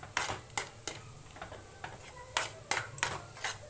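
A spoon stirs thickening besan milk cake mixture in a kadhai, producing about eight distinct scraping strokes in an uneven rhythm, close and moderately loud over a faint sizzle.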